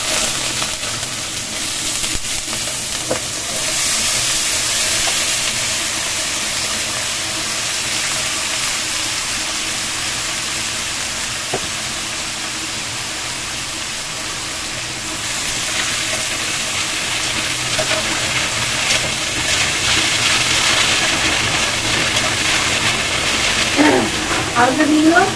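Potatoes frying in hot oil with a tempering of spices and whole dried red chillies, a steady loud hiss and sizzle that runs throughout, with brief stirring sounds and a voice now and then.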